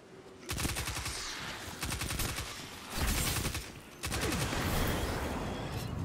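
Rapid SMG fire in the video game Destiny 2, delivered in several loud sustained bursts separated by brief pauses, the rattling shots coming close and heavy.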